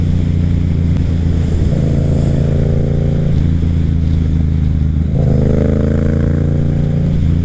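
A Yamaha FZ07 motorcycle cruises on a highway, its engine droning steadily under heavy, constant wind roar, with two rising engine tones swelling briefly partway through.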